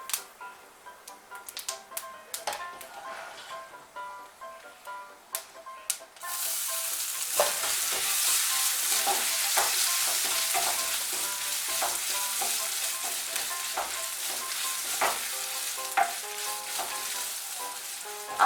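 Greens being stirred and fried in a pan with crushed ginger: sparse tapping and scraping at first, then a loud continuous sizzle with repeated spatula clicks against the pan.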